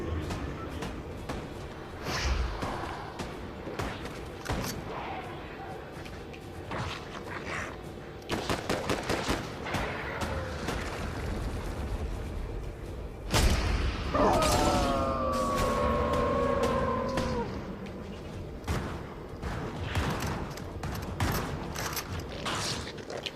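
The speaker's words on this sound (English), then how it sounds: "I'm just sniping at people with the DMR" DMR rifle gunfire in Fortnite, sharp shots repeating in quick strings with a few louder single cracks, a wavering siren-like tone partway through, and game effects throughout.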